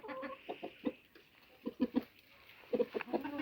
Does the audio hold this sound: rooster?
yes